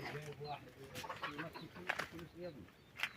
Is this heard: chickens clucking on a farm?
yes